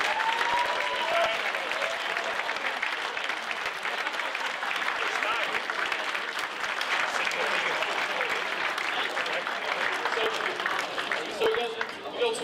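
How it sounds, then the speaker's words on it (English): At Bury AFC's end-of-season awards, a hall audience gives sustained applause to the women's football team. The clapping is steady and fairly distant, with a little crowd murmur and a few voices under it. "give the ladies a massive round of applause"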